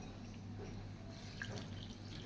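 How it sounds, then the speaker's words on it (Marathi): Flattened rice flakes (poha) being rinsed in clean water in a home kitchen while making poha kheer: soft, faint dripping and trickling water over a steady low background hum, with no one speaking. "जे पोहे आपण घेतले ते पोहे आता आपण स्वच्छ पाण्याने धुवून घेऊया"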